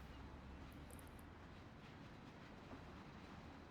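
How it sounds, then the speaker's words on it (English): A train ride in a Mafia: The City of Lost Heaven mod gives a faint, continuous low rumble of rolling railcars, steady and distant-sounding with no voices. "Yeah, there's train riding sound."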